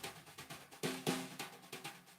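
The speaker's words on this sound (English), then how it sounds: "Get the good old swish." A drum kit plays a soft, even swishing pattern of brushed strokes in a steady pulse, with two stronger accented swishes in the middle.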